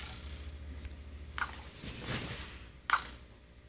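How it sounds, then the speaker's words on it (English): Quiet crunching chews from a video-game character gnawing on a bow, a few soft bites spaced apart with brief crisp clicks, alone without talk. "Stop chewing your bow."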